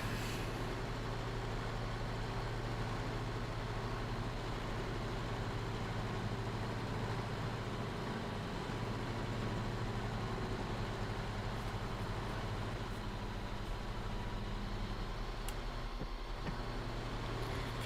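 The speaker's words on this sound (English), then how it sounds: "the tractor is quite loud" Tractor engine in the farming game Farming Simulator 25, a loud steady drone that holds constant and unbroken for the whole stretch with no talk over it.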